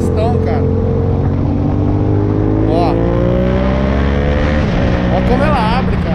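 A tuned Yamaha MT-07 two-cylinder motorcycle engine revs loudly on a test ride, its pitch sweeping up and down through gear changes, with someone talking briefly over the engine.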